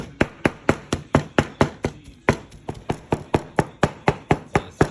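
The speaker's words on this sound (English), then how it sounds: "we're gonna chop this up before I put it in the blender" Knife chopping cooked crappie fish for larb on a cutting board, a quick steady run of sharp, close knocks with a brief pause midway, no talking.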